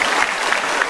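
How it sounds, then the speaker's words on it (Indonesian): Steady applause from a stand-up comedy audience, dense clapping filling the whole second at an even, fairly loud level. "Tepuk tangan dong buat Pak Ferry."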